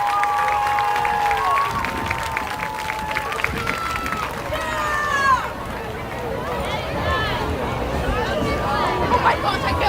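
Crowd at a high school football game cheers and applauds for a high school cheer team, a broad roar of voices and shouts rising and falling steadily throughout, with loud overlapping chatter.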